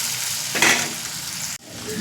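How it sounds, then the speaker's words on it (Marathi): Chopped onion and tomato fry in a pan with curry leaves for a cowpea breakfast dish, giving a loud, continuous sizzle with a brief burst of stirring midway and a short break near the end. "आपल्याला कांदा आणि टोमॅटो छान परतून घ्यायचा आहे"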